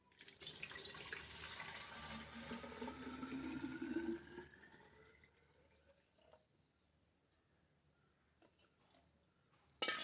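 Water pours into a container to measure out one litre for mixing a garden pest spray, a rushing splash whose pitch rises as the vessel fills, then stops, leaving faint clinks and a closing knock.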